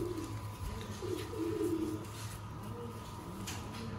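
Sialkoti pigeons offered for sale give soft, low repeated coos at close range, a gentle murmuring call over faint background hum.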